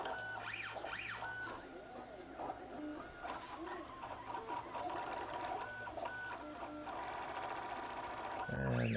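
Stepper motors and extruder of an original Ultimaker 3D printer running Klipper firmware, sweeping whines and buzzing tones over a steady mechanical hum, close and continuous, ending in a brief louder knock.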